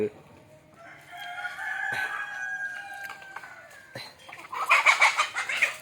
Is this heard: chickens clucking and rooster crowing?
yes